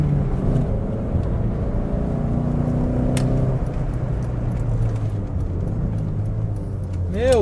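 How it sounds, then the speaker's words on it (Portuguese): A Fiat Tempra Turbo with a 2-litre 16-valve engine idles with a steady low rumble close by, while someone talks over it. "o som desse carro é muito legal"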